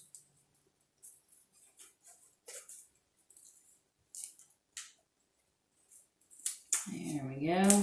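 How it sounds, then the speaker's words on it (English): Soft, sporadic snips of scissors trimming a puzzle-piece wreath craft, brief crisp clips scattered with pauses, ending in a louder rustling burst. "Then I can trim up with my scissors."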